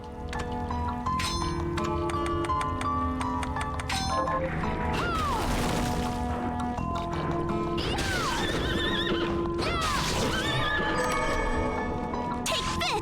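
Horse neighing and whinnying in the video game Bloodstained, several loud calls over a dense layer of game music and clip-clop hoof sounds, with no talking.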